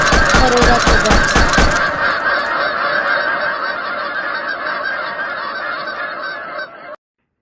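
Geese honk repeatedly in the Duck Hunt video game, a loud, rapid run of electronic honks over a chiptune backdrop that stops abruptly near the end.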